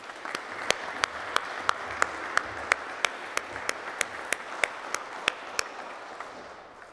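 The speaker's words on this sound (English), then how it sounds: "please give those who supported you a round of applause" Audience applause for the supporters of commissioning cadets at a Fordham ROTC graduation ceremony in 2021, a steady wash of many hands with sharp individual claps standing out, sustained throughout and slowly fading near the end.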